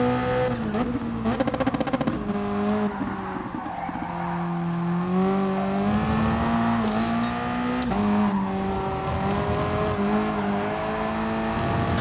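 A Toyota race car at the Red Bull Ring in a racing video game, its engine droning and shifting pitch steadily through the laps, with tires skidding and squealing, loud and close without talking.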